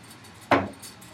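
A pint-sized glass set down with a single sharp clink and brief rattle against a hard surface, close and alone in a quiet room.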